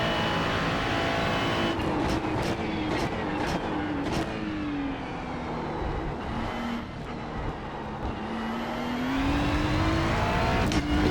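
A race car engine drones loudly and continuously on the Monza circuit in a racing video game, pitch climbing and dropping through gear shifts and braking, with brief tire squeals and no talk over it.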